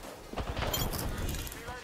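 Rapid gunfire from the Apex Legends video game, bursts of shots crackling in a busy mix under a voice.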